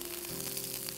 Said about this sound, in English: Once the oil becomes nice and hot, add the remaining garlic, about a tablespoon.